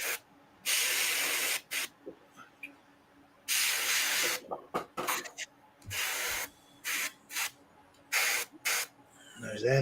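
Airbrush spraying deep blush paint onto the hand of a Toadie figure from Mad Max, heard as a series of close hissing bursts of varying length separated by short pauses, with no talking.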